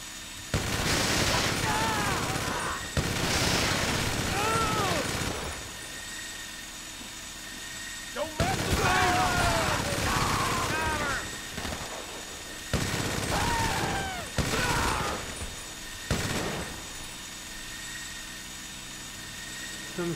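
Minigun fire in GTA 5 Online, in long sustained bursts of dense gunfire separated by short pauses, loud and close, with game effects layered through it.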